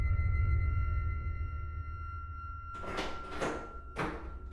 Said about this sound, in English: I heard the door open and close